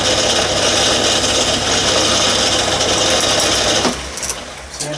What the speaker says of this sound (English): So first thing we'll do is face off the end.